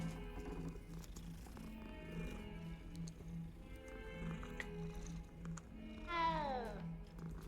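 A cat in the Hogwarts Legacy video game lets out a single drawn-out meow that falls in pitch near the end. It sits over steady looping game music and ambience, and no one speaks over it.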